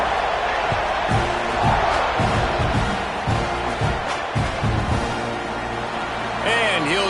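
A football stadium crowd roars and murmurs in a dense, steady wash after a big touchdown play, with a commentator talking over the noise throughout.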